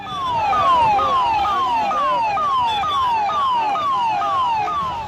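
An ambulance siren wails steadily and loudly in a repeating up-and-down pattern as it carries a murdered businessman's body home through a street in Uttar Pradesh, India.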